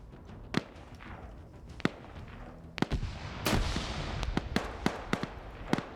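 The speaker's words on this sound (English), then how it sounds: "They're trying to put grenades up in this trench" Grenades go off in a trench in Arma as a string of sharp blasts and cracks, some isolated and some clustered in a rough volley, loud against a low rumbling background.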